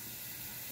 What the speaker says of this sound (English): So I wash my chicken in cold water.